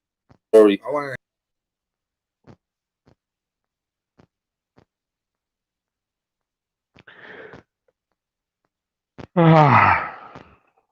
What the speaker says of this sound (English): You see me yawning? That's for real.